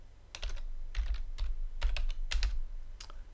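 Someone types data into a form on a computer keyboard, with short bursts of clicking keystrokes separated by brief pauses, close and clear, with no speech.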